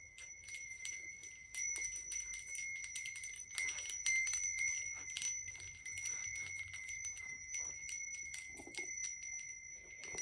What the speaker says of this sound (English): And these lovely chimes I found at an outdoor market.